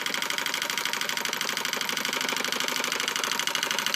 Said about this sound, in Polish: I już silnik pracuje z powrotem.